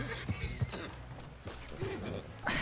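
A horse whinnies and shuffles its hooves on a town street in RedM (Red Dead Online) roleplay, with short hoof knocks and a brief neigh heard close by and no speech.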